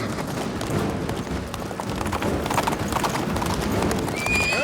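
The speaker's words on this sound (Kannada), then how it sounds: "ಬಿರುಗಾಳಿ ಒಂದು ಕಾಡು ಕುದುರೆ" A wild horse gallops with rapid clip-clopping hooves, loud and close, in a race, followed by a high whinny near the end.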